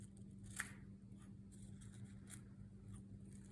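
Scissors snip a folded paper snowflake in a few short, quiet cuts, with a steady low electrical hum underneath.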